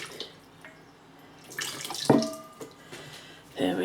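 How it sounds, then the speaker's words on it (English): Tap water runs and splashes as a sugar spoon is rinsed under it, coming in short bursts with clinks and gurgles between quieter pauses. "Let's rinse the spoon, sugar spoon."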